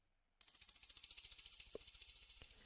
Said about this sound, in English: This HH rise, so it's a hi-hat rise basically.